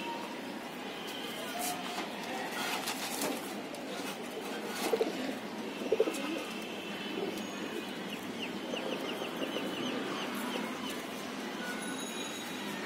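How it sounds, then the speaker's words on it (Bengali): Pigeons in a loft coo and flutter softly amid a busy setting with distant rail noise, a faint wheel squeal and intermittent background talking. "ওই মাদি কবুতরটা একটু দেখান।"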